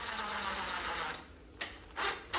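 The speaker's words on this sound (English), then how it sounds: "These are little trim screws. So I'm just putting it in there just past the edge." A power screwdriver drives small trim screws into an arcade cabinet during restoration, whirring steadily close by for over a second, then falling quiet before two short bursts.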